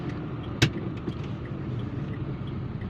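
Steady road-car rumble of a vehicle pulling ahead and turning right at a traffic light, with one sharp brief thump near the start and no talk.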